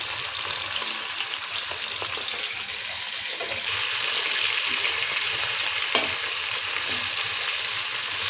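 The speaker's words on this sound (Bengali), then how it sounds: "কড়া করে মাছ ভাজা।" Fish fried crisp in oil for a Bengali fish kalia: a continuous, close hiss of sizzling with faint stirring scrapes and one brief clink, steady in loudness throughout.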